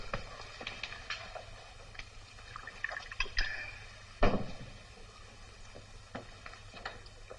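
Water is poured into drinks in a quiet room, with faint trickling and scattered drips, one louder splash midway, and no voices.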